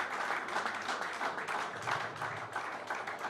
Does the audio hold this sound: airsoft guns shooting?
no